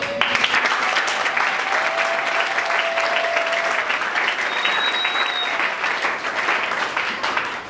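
A church congregation at a prophetic deliverance service applauds and acclaims in a steady, dense wash of clapping that stays loud and continuous throughout, with faint tonal sounds drifting over it.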